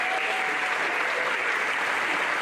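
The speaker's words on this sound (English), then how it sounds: "I appreciate that applause right there" Sustained audience applause at a sports hall of fame induction ceremony, a steady dense wash of clapping hands throughout with no speech over it.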